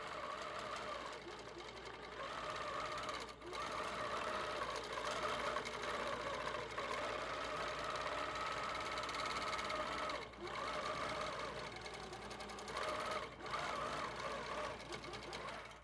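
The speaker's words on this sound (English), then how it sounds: "My machine has finished stitching the pattern out for my first row." An HQ Pro-Stitcher computerized quilting machine hums and whirs steadily as it stitches out an edge-to-edge pattern, a continuous mechanical drone with a few brief pauses, moderately quiet.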